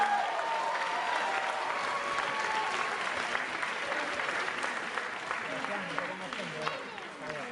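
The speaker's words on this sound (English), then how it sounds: "Give them a round of applause, guys." An audience claps and cheers steadily for several seconds at a staged show, a dense wash of applause with voices mixed in, fading slightly toward the end.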